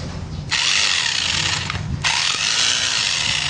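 A newly unboxed hammer drill on concrete, whirring loudly in two bursts, each starting abruptly and separated by a short pause, close and with no one speaking.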